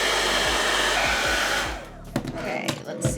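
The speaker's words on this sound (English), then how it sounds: "Got my hairdryer." A handheld hair dryer blows hot air in a steady, loud rush, then cuts to a quieter, uneven whoosh with a few brief bumps as it moves, all without any talking.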